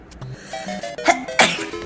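A girl sneezes, with two sharp bursts close together near the middle, set against light tonal background sounds.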